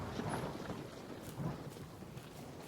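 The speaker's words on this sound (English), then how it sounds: "Good, rain." Rain hisses steadily in the video game The Forest while soft low rumbles of thunder roll through at a moderate distance, quiet overall and without voices.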